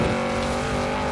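Lamborghini Urus with an eight-speed gearbox roaring in Forza Horizon 4, a loud, steady engine drone held under load without a break, close and alone.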